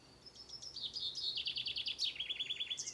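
High clear birdsong from just overhead outdoors, a lively phrase of rapid chirps and descending trilled notes, soft but distinct over quiet background.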